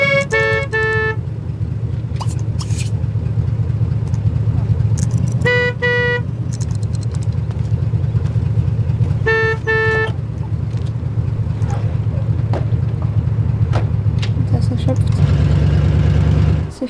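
A car driving off to work in The Sims 2: a steady low motor hum runs throughout, punctuated by three short, bright horn toots spaced several seconds apart.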